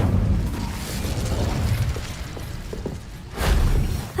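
Incendio fire spell cast in Hogwarts Legacy, a low roaring whoosh that rumbles steadily, dips briefly, then swells into a second loud burst near the end.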